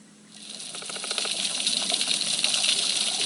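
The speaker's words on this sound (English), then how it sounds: "you put on the soundtrack of a healthy reef." A recorded underwater soundtrack of a healthy coral reef: a dense, hissing crackle of snapping and popping that swells from quiet to a steady, loud wash and continues without any voice.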